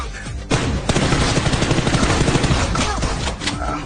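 Rapid shotgun blasts from a DBS double-barrel shotgun in a video game, loud and close, firing in a dense run of booming reports with little pause between them.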